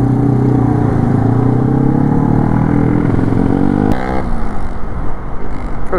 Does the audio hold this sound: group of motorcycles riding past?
yes